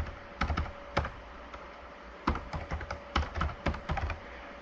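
Rapid typing on a computer keyboard, entering login credentials: irregular bursts of crisp, close keystrokes with short pauses between groups, no voices.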